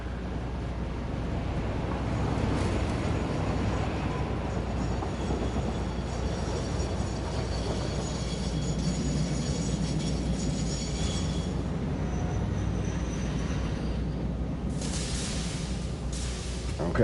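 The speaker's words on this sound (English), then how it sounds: "here comes the train" A train rolls past in a building video game, a steady rumbling and clattering wash that holds for many seconds with faint squeal near the end, with no talk over it.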